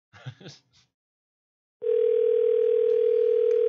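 A telephone call goes unanswered: a single steady, loud ringback tone sounds for about two seconds, following a few brief spoken words and a short pause.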